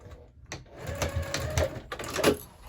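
A sewing machine stitches a crossbody bag seam at a half-inch allowance, its needle thumping in a quick, steady rhythm up close, with brief pauses between bursts.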